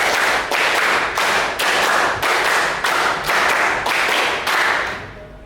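A school class claps in unison in a rhythmic pattern, repeated bursts of loud, close hand claps in regular groups separated by short pauses, ending abruptly.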